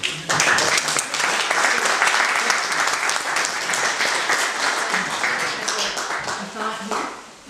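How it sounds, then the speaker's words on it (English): An audience at a social justice forum bursts into loud, steady applause that carries on for several seconds, with a voice talking over the clapping. "I can hear your applause"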